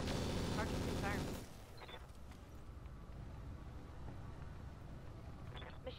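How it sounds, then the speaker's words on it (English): Machine gun fire in the mech combat game Roguetech: a dense, loud burst of rapid shots for about a second, then cutting off into a lower rumbling background. "Machine guns are empty."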